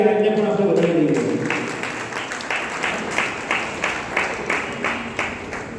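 Audience applause at a Lions Club of Viramgam swearing-in ceremony, starting after a voice and settling into rhythmic unison clapping in a hall.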